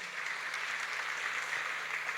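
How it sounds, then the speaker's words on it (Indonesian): An audience at a SEMMIT academy event in Indonesia applauds steadily, a dense even wash of many hands clapping with no one talking over it. "ini kasih tepuk tangan dulu"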